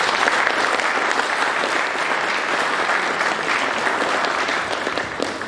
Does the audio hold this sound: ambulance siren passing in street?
no